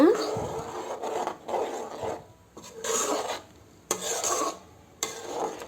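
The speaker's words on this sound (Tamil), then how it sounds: "நல்லா ஒரு கலக்கி விடுங்க." A spoon scrapes and stirs egg drop curry in a pan, several rasping strokes in an uneven rhythm with short pauses between them, close and moderately loud.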